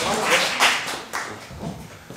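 Scattered clapping from a small audience at a Korean church health talk concert, a few uneven bursts of hands that come and go, fairly close, with faint voices underneath.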